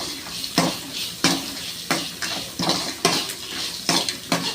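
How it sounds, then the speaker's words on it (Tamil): Onions being sautéed in a pan for Chettinad chicken: a spatula scrapes and knocks against the metal pan in regular strokes about every half second, over a soft sizzle, close and clear with no talking. "இதையும் சேர்த்து நல்லா வதக்கிக்கணுங்க"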